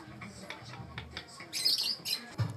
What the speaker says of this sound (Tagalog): May lovebird sila dalawa.